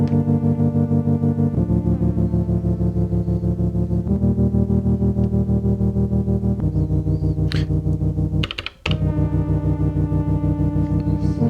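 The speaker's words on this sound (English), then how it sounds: "Let's listen to the melody against the chords." A melody plays against sustained chords at a steady level, the tones shifting every couple of seconds with a slightly effected, chorused shimmer and a brief dropout near the end.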